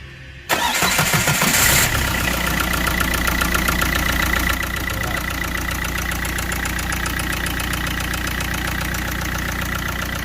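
A Leyland diesel engine cranks briefly and catches, then settles into a loud, steady, knocking idle that carries on close by with no talk over it.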